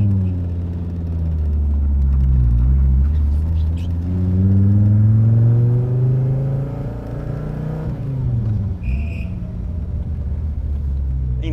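Car accelerating hard with a non-original, aftermarket clutch: a loud, close engine rumble climbing in pitch through the revs, easing off around the middle, then pulling again, with no talking.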